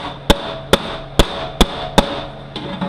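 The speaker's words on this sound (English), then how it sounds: "get you a hammer, put it on a fairly flat edge" A hammer taps metal five times in a steady, evenly spaced rhythm, each strike sharp and ringing, followed by a couple of softer knocks, straightening a bent TH350 transmission part on a flat edge.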